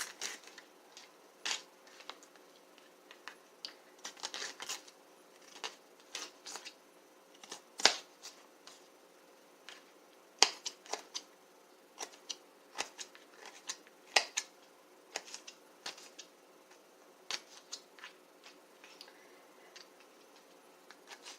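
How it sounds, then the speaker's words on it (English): A knife chops red pepper for mango salsa on a cutting board in irregular bursts of sharp taps, some quick runs and isolated strikes, close and fairly quiet with no talking over it. "So I'm going to go ahead and chop it up."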